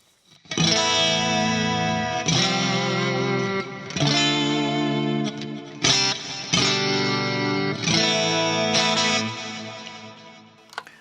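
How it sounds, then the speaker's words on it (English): Electric guitar run through two stacked chorus effects on a Fractal FM9 Turbo, with distortion and reverb, playing loud sustained chords in several bursts with brief gaps, alone without talk. "So that's why we've got to add in the second chorus."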